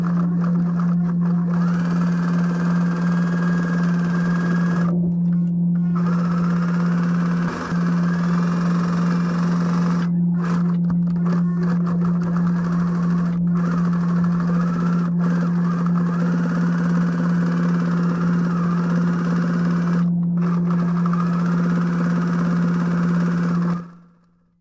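A sewing machine runs steadily for a long stretch, backstitching around the edge of a fabric scissor holder, with a loud constant motor hum, brief interruptions in the whirring and a sudden stop at the end.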